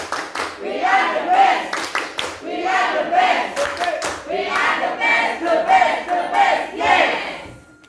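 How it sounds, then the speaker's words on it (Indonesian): An audience performs a rhythmic spirit clap in unison at a school gathering, loud claps punctuated by shouted chants and cheers that carry steadily throughout. "Sebelumnya ya, tepuk semangat."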